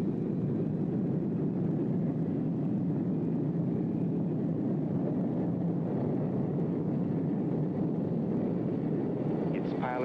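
A US Huey medevac helicopter taking off gives a steady, loud, broadband rotor and turbine roar throughout, heavily buffeted by wind, with no clear change in pitch.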